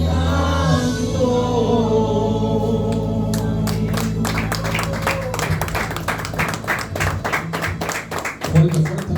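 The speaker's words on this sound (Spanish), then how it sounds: "Fuerte, fuerte aplauso para Dios." A church congregation breaks into applause, starting as scattered claps that swell into dense, sustained clapping, with singing and voices heard underneath early on.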